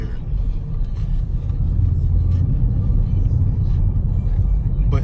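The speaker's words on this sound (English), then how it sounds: "Can you hear the exhaust?" A deep, steady exhaust rumble from a 2019 Charger Scat Pack engine, loud and continuous with dense low-frequency drone throughout.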